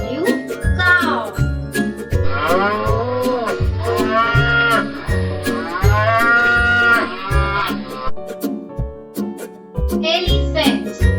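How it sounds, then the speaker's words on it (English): A cow mooing in long, drawn-out, loud calls, repeated several times over a rhythmic musical backing with a voice speaking. "C-O-W, cow."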